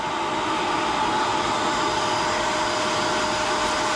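A vacuum cleaner draws steadily on the carpet of a 1985 Ford Mustang 5.0 LX Foxbody, a loud, continuous broadband whoosh with a fixed motor whine holding unchanged throughout, no voices.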